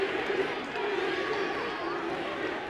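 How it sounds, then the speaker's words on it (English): Wrestling arena crowd at a pay-per-view event, a dense, loud roar of many voices chanting and cheering steadily throughout with no break. "Listen to this crowd."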